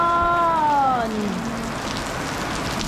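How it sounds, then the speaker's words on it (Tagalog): Heavy rain pouring steadily on surfaces, a dense continuous hiss, with a brief descending tonal sound at the start. "lakas ng ulan"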